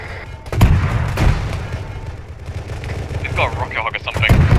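Gunfire and explosions in a military video game, loud bursts and booms over a rumbling battlefield bed, with players talking over voice chat throughout.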